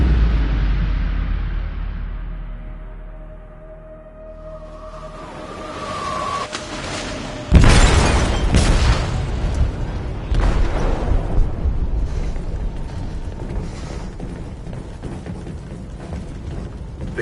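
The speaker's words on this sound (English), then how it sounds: "They detonated an explosive in the hold." An explosive detonates in a ship's hold in a video game, a sudden loud blast after a low rumble and faint tone, followed by a sustained crackling, roaring rumble of debris and fire.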